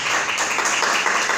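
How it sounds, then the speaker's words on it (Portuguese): A church congregation claps together in steady, dense applause throughout, a broad wash of many hands with no single claps standing out. "Vamos dar uma salva de palmas para Deus."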